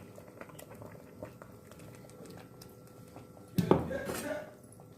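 Ground masala stirred into a simmering pot for a Tulu Nadu folk snack, with a low steady bubbling and faint patter, then a brief louder burst of scraping and sloshing near the end.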